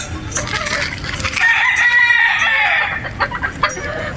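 A Boston Roundhead gamefowl rooster at a game farm in Batangas crows once in a long, loud, close call that swells in the middle and trails off, with faint farmyard clucks around it and no talk.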